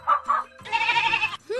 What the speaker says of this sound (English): That's a fluffy sheep that goes.